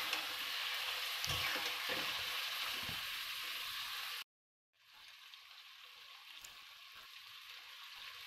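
Mutton hits a hot pan for a Bengali curry and fries with a loud, dense crackling sizzle. The sizzle drops out abruptly for a moment, then resumes quieter and steadier, with occasional pops and spatters.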